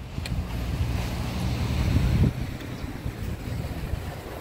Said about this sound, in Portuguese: Olha só esse vento gostoso.